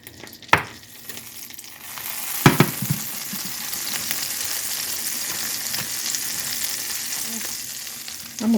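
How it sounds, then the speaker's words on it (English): Food browns in a crowded frying pan with a steady, loud sizzle throughout, broken by a couple of sharp clacks from utensils being moved around the pan. "It takes a little bit to brown. And I might not get all this in one pan."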